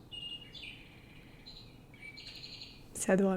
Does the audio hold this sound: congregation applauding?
no